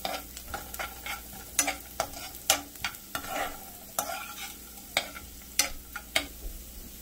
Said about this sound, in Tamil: வெங்காயம் ஒரு ரெண்டு நிமிஷம் நல்லா மணங்கட்டும்.